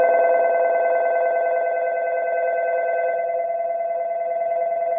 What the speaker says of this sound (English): the bells are still ringing here